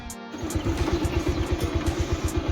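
A motorcycle engine runs up close with a steady, rapid, pulsing putter, idling before heading to a village wedding, heard alone without talk.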